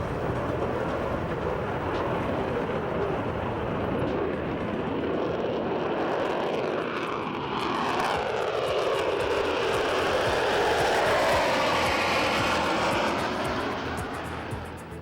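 Concorde's jet engines roar during takeoff from New York, heard from inside the cabin as a loud, steady rushing thunder that swells and rises in pitch as the aircraft accelerates.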